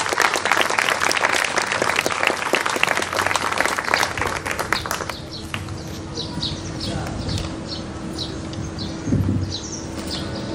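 Audience at a literary awards ceremony applauds a singer, dense clapping for about five seconds that thins into scattered claps, with a low hum underneath.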